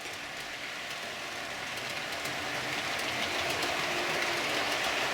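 A model train runs steadily along its track, a continuous rolling rumble with faint clicking that grows slightly louder over about five seconds, with no voices.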